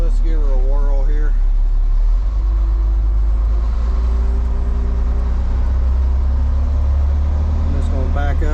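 An off-road haul truck's engine rumbles loud and close as the truck pulls away. A deep, steady drone rises in pitch with the acceleration, and someone talks over it at the start and end.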